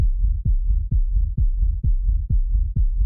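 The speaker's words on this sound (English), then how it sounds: "that's just such a low kick that if you take a look at it, it's pretty much all sub" A very low, sub-heavy kick drum from a dark techno track thumps steadily about twice a second, deep and booming like a heartbeat, with nothing else playing.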